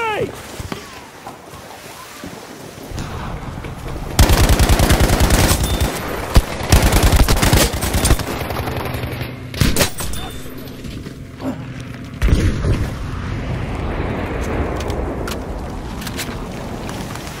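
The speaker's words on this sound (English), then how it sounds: "Throwing grenade!" Gunfire and explosions in the shooter game Battlefield V, with loud bursts and rattling volleys that repeatedly flare up over continuous battlefield noise, and voices calling out in between.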